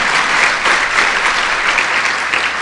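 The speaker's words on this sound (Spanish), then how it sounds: "Denle un aplauso al Señor" A church congregation at a Sunday morning service claps together in steady, loud, sustained applause, close and continuous throughout.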